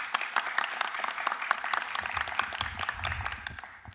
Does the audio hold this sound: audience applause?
yes